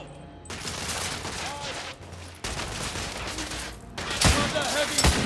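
Dense gunfire from a street firefight in the Victorian-era shooter The Order: 1886, loud bursts and repeated shots continuing throughout, with a heavier close volley near the end and game voices in between.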